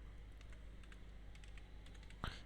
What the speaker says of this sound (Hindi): डिस्क्रिप्शन में टाइप कर लेते हैं गुड्स